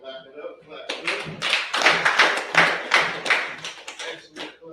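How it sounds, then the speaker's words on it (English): A class claps their hands together in a lively burst of repeated claps, close and fairly loud, with voices mixed in. "Clap it up, clap it up."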